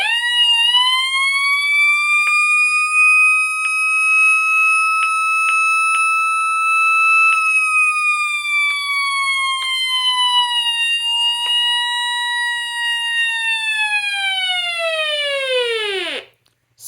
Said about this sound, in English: So let's do the siren test on this.